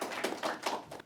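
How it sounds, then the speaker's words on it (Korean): Short, close bursts of hand clapping from an audience welcoming a politician at a panel debate, a few uneven claps over about a second. "박수 부탁드리겠습니다."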